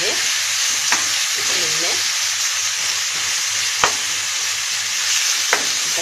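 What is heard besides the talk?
meat searing and sizzling in a hot pan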